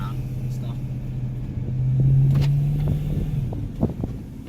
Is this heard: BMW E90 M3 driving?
yes